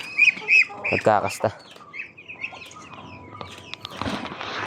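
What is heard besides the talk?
domestic ducks calling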